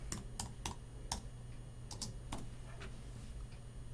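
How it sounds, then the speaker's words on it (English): Computer keyboard keys tapped in short irregular bursts while entering a group name, each keystroke a crisp click over a steady low electrical hum, fairly quiet and close. "You just type in a name, and let's call this Group 1."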